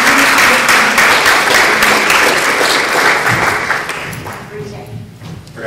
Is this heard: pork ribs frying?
no